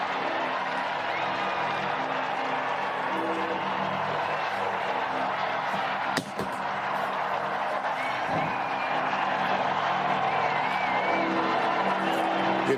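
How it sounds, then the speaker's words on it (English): Thousands of people crowd St. Peter's Square in Rome as a new pope is announced, producing a steady, dense roar of cheering and shouting that fills the whole stretch, with a brief sharp burst midway. "You can hear the crowds, thousands who packed into St. Peter's Square, hoping to witness this very moment"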